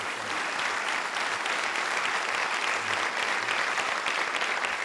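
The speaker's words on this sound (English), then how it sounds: "You can give a little applause" Steady, dense audience applause fills the whole stretch, loud and unbroken, like a large crowd clapping together in a hall.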